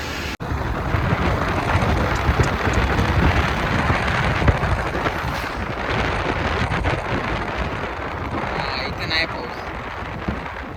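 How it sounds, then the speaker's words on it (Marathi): Heavy rain pours steadily during a road journey, a dense continuous hiss of falling drops that fills the whole stretch, with a person speaking over it. "तर बघूया मित्रांनो आता पाऊस कधी थांबतो आणि कधी आपण जाऊया"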